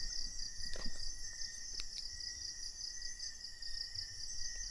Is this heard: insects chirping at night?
yes